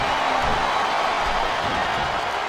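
A WWE wrestling arena crowd roars in a steady, dense wash of voices, loud and continuous with no single voice standing out.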